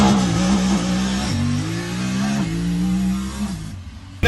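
A Honda Talon side-by-side in four-wheel drive launches with launch control, its engine holding a high, strained rev that steps up through a couple of pitch changes before dropping away, close and loud with no talk.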